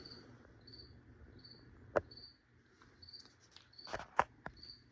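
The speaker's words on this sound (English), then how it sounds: "I'm apparently very boring, according to that grasshopper or cricket in here." A cricket or grasshopper chirps indoors in steady, faint high trills, with a few sharp clicks and soft patter sounds breaking in near the middle and end.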